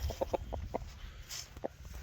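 A rooster recovering from an eye injury clucks in short, quick bursts as it is released outdoors, fairly close and soft, with brief pauses between the clucks.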